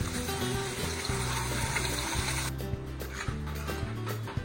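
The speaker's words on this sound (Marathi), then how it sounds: "ह्याच्यामध्ये आपण तयार केला वाटण चांगलंपैकी फ्राय करून घ्यायचं आहे" Ground masala paste frying in hot oil with garlic cloves and curry leaves for prawn masala, a steady close hiss and sizzle with occasional stirring scrapes.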